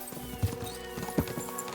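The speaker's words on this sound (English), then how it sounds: "We should spur the horses on." Horse hooves clip-clopping in the video game Kingdom Come Deliverance 2, with two heavier thuds standing out above a steady bed of game music and ambience.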